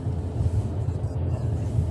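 A 15-year-old Subaru Forester cruises smoothly on a test drive after a Cardone CV axle replacement, with a steady low road rumble and engine drone throughout and no crunching or clicking.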